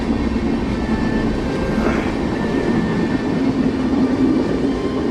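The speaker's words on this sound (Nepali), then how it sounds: "धेरै नै लामो ट्रेन रहेको छ यो।" A very long electric train keeps passing nearby, its steady loud rolling rumble and clickety-clack of wagons continuing without pause, with a faint squeal of wheels partway through.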